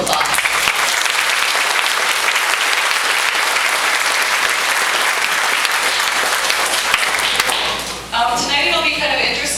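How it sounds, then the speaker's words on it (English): Loud, sustained applause from a crowd at a UFO festival in Warren, Minnesota, honoring the historical society organizers; dense clapping close by that dips near the end as a voice starts speaking over it. "So let's give them a round of applause."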